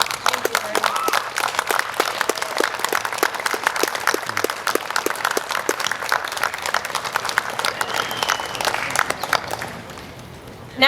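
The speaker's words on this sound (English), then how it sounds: "Please stand and allow us to clap for you." An audience at a Riverbank eighth-grade graduation gives the standing parents a dense, steady round of clapping for about ten seconds, which then fades out.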